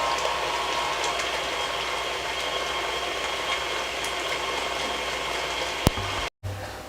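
An electric mixer beats pound cake batter of butter, sugar and eggs, a steady whirring drone held evenly at close range, ending with a brief click and a moment of silence.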